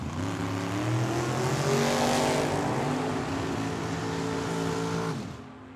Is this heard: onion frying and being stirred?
no